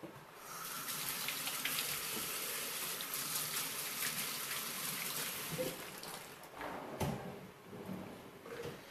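A kitchen tap runs steadily while hands are washed under it, a continuous broad hiss of water that dips and shifts near the end as the flow changes, with a light clunk partway through.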